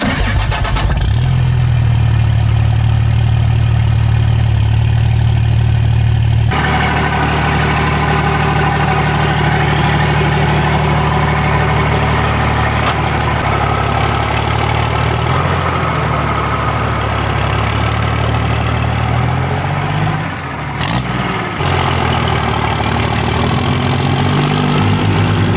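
A dually pickup's engine idles steadily right after new injectors were installed, a loud continuous rumble that settles slightly lower partway through, with no talk over it.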